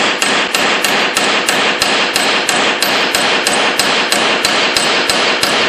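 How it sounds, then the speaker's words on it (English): Sharp metallic hammer strikes on the end of a bolt ring out in a fast, even rhythm, about three per second, loud and close with no talking. "you can just hammer on the end."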